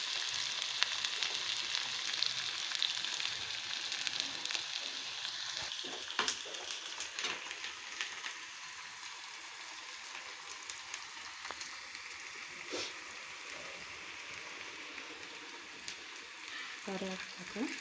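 Fish fries in hot oil until golden, giving a steady, close hiss and crackle that runs evenly throughout with occasional sharper pops.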